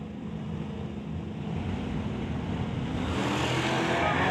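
A drag racing car launches at an outlaw shootout meet, its engine roaring steadily and building in intensity as it pulls away down the quarter mile, loud and continuous with no speech.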